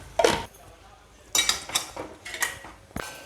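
Roasted fenugreek seeds being tipped from a hot pan into a dish, giving a few separate clinks and scrapes of metal utensil against cookware, with quiet gaps between them.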